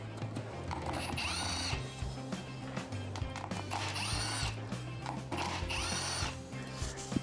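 Close, repeated whirring bursts from a small power driver removing screws from the bumpers of an Inmotion V14 electric unicycle, with a steady mechanical hum underneath.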